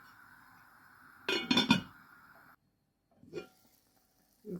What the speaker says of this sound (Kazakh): қазанымыздың бетін жауып қоямыз.